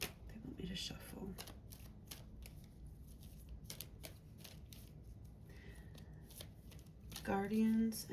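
Tarot cards being shuffled by hand at close range, a series of quick crisp riffles and flicks with brief pauses between, under a soft speaking voice.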